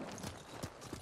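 Quick, light hoof clip-clops of a horse at a walk in the video game Ghost of Tsushima, several soft knocks in a short burst, faint and close.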